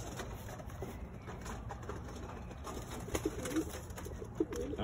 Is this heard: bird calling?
yes